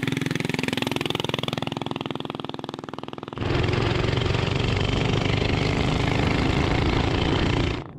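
A vintage mini bike's small engine runs continuously, a buzzing putter that jumps to a louder, harsher, higher-revving note partway through.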